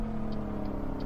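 Euro Truck Simulator 2 dump truck engine idling steadily, a continuous low droning hum with a faint repeating tick.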